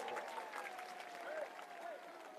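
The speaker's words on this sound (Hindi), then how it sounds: "एक बार उनके लिए भी जोरदार ताली बजाकर धन्यवाद" A crowd at a religious gathering claps in thanks, a soft, continuous patter of applause with a faint tonal hum running beneath it.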